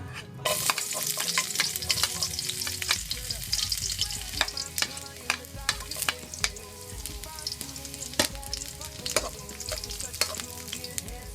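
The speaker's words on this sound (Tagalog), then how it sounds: "pag mainit na yung mantika, lagyan na natin yung bawang" Garlic sizzling in hot cooking oil for stir-fried bitter gourd with egg: a loud, continuous crackling hiss with frequent sharp spatter pops and scraping stirs, close by and without speech.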